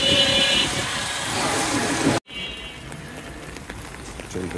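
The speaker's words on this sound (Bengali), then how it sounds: "এখনো বৃষ্টি হচ্ছে" Rain falling outdoors near a bush cabin, a steady broadband hiss that cuts out abruptly midway, then returns softer and more distant.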